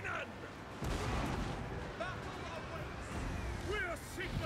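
Great cannon fire rings out amid a chaotic Total War: Warhammer 2 battle with the Empire army, dense booms and gunfire layered over a shouting battle din and voices throughout.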